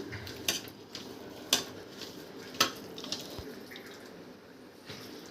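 Chicken 65 marinade with egg is mixed in a bowl, giving faint, sporadic clinks and taps of utensil on dish with soft wet squelches in between, all fairly quiet and close.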